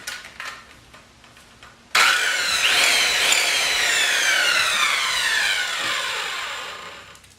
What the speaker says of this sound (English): How about 12 amp circular saw?